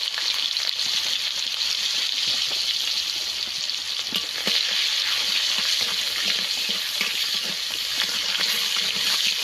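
Black cumin seeds and onion sizzle in hot oil with a steady, bright crackling hiss and occasional sharp pops, heard close and continuous with no voices.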